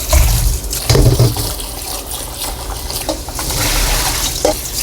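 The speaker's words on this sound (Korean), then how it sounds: "이거 한 2번 정도 깨끗하게 헹구셔서 하셔야 됩니다." Quail eggs being rinsed by hand in a bowl of water, with sloshing, swirling splashes and dribbling water that rise and fall, loudest in bursts near the start, close up with no talking.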